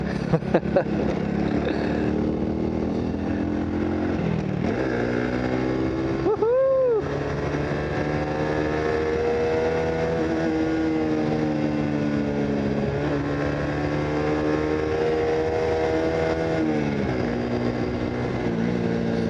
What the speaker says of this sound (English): driving this Honda Cub, it reminds me of my S2000